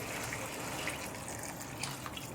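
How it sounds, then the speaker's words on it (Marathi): Water is poured into washed rice in a cooking pot for soybean pulao, a steady splashing gush at moderate volume that runs without pause. "तर त्याच्यामध्ये पाणी टाकून घ्यायचं आहे"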